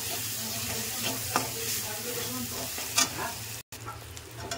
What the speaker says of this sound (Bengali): 1 টেবিল চামচ হলুদ গুঁড়ো, 1 টেবিল চামচ জিরে গুঁড়ো। এটাকেও আমি ভালো করে কষে নেব।